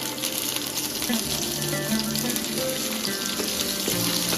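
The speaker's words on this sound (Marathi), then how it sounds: "लसण आता थोडासा रंग बदललेला आहे लसणाचा, त्यामध्ये कांदा टाकायचा" Chopped onion hits hot oil in a pan already holding garlic and ginger for a Maharashtrian shev bhaji curry, giving a steady, close sizzle and crackle with faint clinks from the pan.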